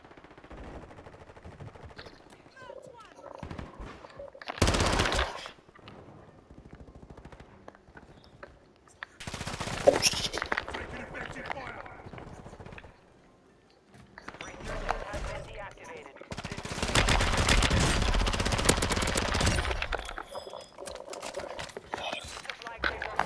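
Sniper rifles firing in the video game Call of Duty Warzone 2, several loud sharp bursts spread across the stretch, one longer barrage near the end, with players talking over and between the shots.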